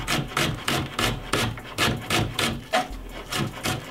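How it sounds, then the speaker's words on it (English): A knife finely chops white onion on a wooden cutting board, the blade striking in a steady run of quick, close rhythmic cuts with no talking. "I'm gonna cut that up really finely also."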